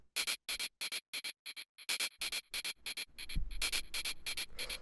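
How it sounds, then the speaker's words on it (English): White noise from an Ableton Operator synth shaped by a bandpass filter, sounding as a rapid string of short hissy bursts in a choppy rhythm, settling into a steadier wash over a low thump near the end. "it is actually just some white noise inside of operator"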